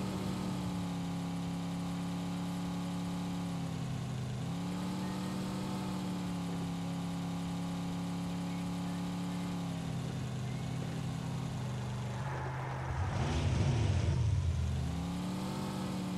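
Motorcycle engine in a video game holds a steady mid-pitched drone with small shifts in pitch, then revs up louder for a short burst near the end, with no voices.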